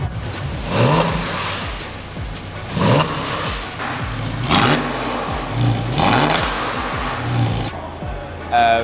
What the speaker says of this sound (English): A full top gear exhaust system that's valved, which is quite fruity.